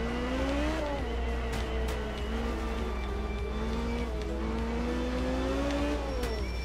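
A rally car in the Art of Rally video game fishtails under braking. The engine drones steadily with rising and falling pitch, and tires scrub and squeal through a long skid, loud and continuous with no talk.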